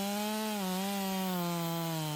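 A Stihl MS400 chainsaw cuts wood at full throttle, a loud, steady, close engine whine holding a strong buzzing pitch that sags slightly as it bogs into the cut.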